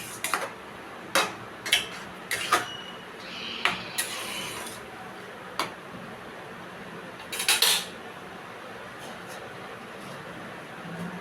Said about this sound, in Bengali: এবার তরকারিটা জল ঢেলে দিচ্ছি, অল্প করে দিচ্ছি, দিয়ে একটুখানি নেড়ে একটা ঢাকা দিয়ে দেবো